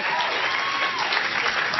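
An audience applauds, a dense, even wash of clapping filling the whole short stretch, with a voice faintly mixed in.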